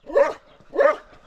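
Dog barking outdoors in Azad Kashmir, Pakistan: two loud, close barks about half a second apart, with nothing else between them.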